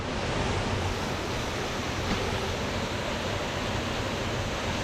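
A mountain waterfall in snowy Glencoe roars as a steady, dense wash of rushing water, loud and close, with no pauses and no voices.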